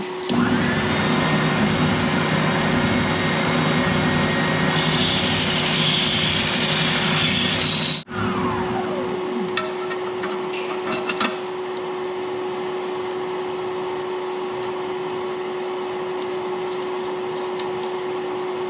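A Bauer oscillating sander buzzes loudly and steadily against the ends of reclaimed pallet wood for about eight seconds. It then cuts off abruptly, leaving a quieter workshop hum with a few faint ticks.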